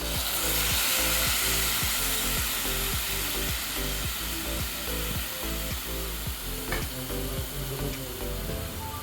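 Tomatoes fry in a hot pan with a loud steady sizzle. Regular rhythmic scraping strokes of stirring with a wooden spatula sound close and clear over it.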